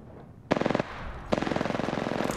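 Automatic gunfire in Apex Legends: two loud, rapid bursts, the first short and the second longer and steady, each with an even rattling rhythm of close shots.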